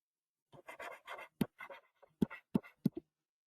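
Pen writing on paper for an accounting exercise, heard as close, quiet bursts of scratchy strokes with sharp taps between them, alone in a silent room.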